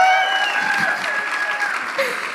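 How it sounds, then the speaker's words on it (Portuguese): Audience applause at a community launch event, a short burst of clapping from a crowd with voices mixed in, steady and fairly loud throughout. "palmas."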